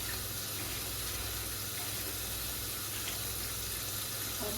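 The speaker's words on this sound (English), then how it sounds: "go ahead and run that water for it" A kitchen tap runs into the sink, filling it for washing dishes, in a steady, close, rushing stream of water that stays unbroken throughout.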